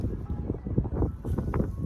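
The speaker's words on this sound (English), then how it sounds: "I know it's windy" Gusty outdoor wind buffeting a microphone, producing low rumbling thumps and rustle in uneven bursts over the short stretch, close and boomy.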